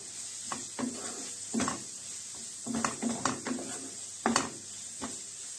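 Onion and vegetables with spices and black pepper for a Korean-style zucchini salad are stirred in a frying pan. A spoon scrapes and clatters in irregular bursts over a faint, steady sizzle, close and fairly quiet, with no talk.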